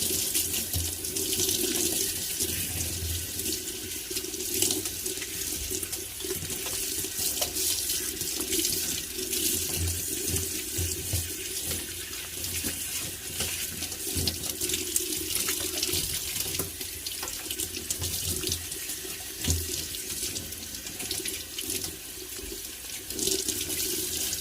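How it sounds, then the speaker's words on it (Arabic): Tap water runs steadily into a sink while fish are washed and scaled, a continuous close splashing hiss with small irregular spatters and no voices. "احنا هنا بنغسلها كده ايه، بننزل بقى كل اللي فيها كده"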